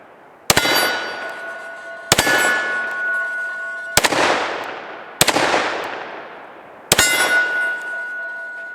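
Shots from a Kimber Longslide 10mm strike a steel hostage plate: five loud metallic clangs at uneven intervals, each ringing out and slowly fading before the next hit.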